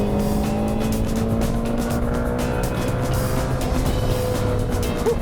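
A 2017 Ford GT supercar with a turbocharged V6 drives with a loud, steady engine roar and a sustained high whine, with tire noise underneath and no talking.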